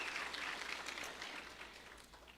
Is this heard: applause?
yes